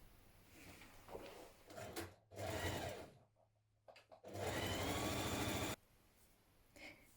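A sewing machine stitches the side seam of a collared top in two sustained runs, close and steady, with short starts and pauses between them.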